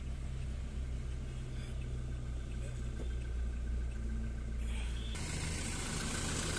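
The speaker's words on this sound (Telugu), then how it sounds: "ఇంజన్ సౌండ్ చూసుకుంటే మాత్రం ఈ విధంగా ఉందండి" Low, steady rumble of a 2018 Toyota Innova Crysta diesel engine idling with the AC running, constant and unbroken, with a faint hum layered over it and a slight rise in hiss near the end.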